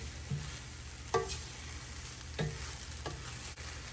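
Rice sizzling in a hot pan with a steady stir-frying hiss, punctuated by a few scraping stirs of a utensil against the pan.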